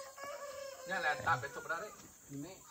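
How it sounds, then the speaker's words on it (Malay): Chickens on a rural farm garden cluck and call close by, with people talking over and between the bird sounds. "Ini ayam dia. Memang banyak ya."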